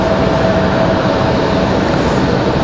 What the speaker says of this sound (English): Got several planes heading out.